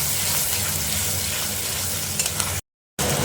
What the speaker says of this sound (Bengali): এবার এটা একটু ভালো করে কষিয়ে নিই।